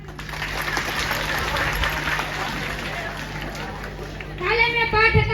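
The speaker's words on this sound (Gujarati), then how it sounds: "તાળીઓ પાડો" Schoolchildren clap their hands in a village classroom on Republic Day, a steady patter of many small hands for about four seconds, with voices rising at the end as the clapping fades.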